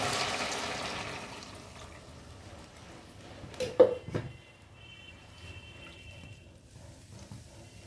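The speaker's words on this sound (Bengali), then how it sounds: "এর মধ্যে দিয়ে দেবো আমি এখন মিক্সির ধোয়া জল।" Water rinsed from a mixer jar poured into a pan of fried spice paste for a kofta curry, a brief splashing gush and sizzle in the middle over a quiet kitchen background.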